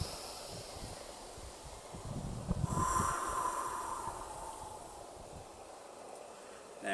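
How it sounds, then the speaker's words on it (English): A single slow, deep breath drawn in through the nose and let out through the mouth during a vocal warm-up, a soft close airy rush that swells midway and fades gradually. "And then another deep breath in and out."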